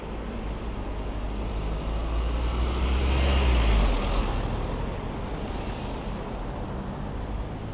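A car drives around a roundabout, giving a steady, fairly loud rumble of engine and tyre noise that swells in the middle and then eases off, with no talking.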